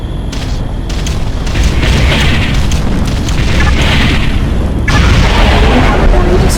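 Artillery bombardment in the Ground Control real-time strategy game, a dense, continuous roll of loud booming explosions overlapping one another for several seconds, with no gaps between blasts.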